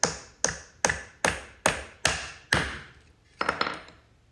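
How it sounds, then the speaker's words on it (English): A hammer drives a nail into a wooden Langstroth beehive frame with about eight sharp, evenly spaced close taps, the last few strikes coming more softly after a short pause. "it just stands by itself and you can drive that nail straight in"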